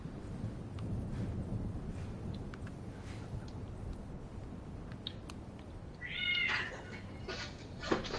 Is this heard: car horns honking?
no